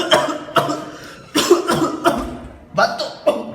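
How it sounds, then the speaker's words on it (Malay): A person coughs in a series of short, harsh bursts, roughly six separate coughs in uneven rhythm, close and fairly loud, in a clinical setting with a patient complaining of a month-long cough. "Batuk."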